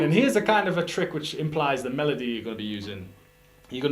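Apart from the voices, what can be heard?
None of the usual background noises is heard.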